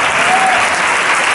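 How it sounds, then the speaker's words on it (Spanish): A loud, dense wave of audience applause for a music group from Huelva, with many hands clapping steadily and close throughout the short burst. "un fuerte aplauso para ellos"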